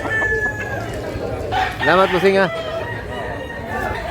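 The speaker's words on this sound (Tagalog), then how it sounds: "Napaka quality manok." A 14-month-old gamefowl rooster gives one clear crow close by, rising then falling, over outdoor background noise, with someone talking briefly before it.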